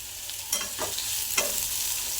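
Onion frying with curry leaves in hot oil for a brinjal bharit, a steady close sizzle broken by a couple of scraping stirs of the spatula in the pan.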